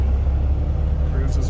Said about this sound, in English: Put it up on fast idle, let's have a listen to it.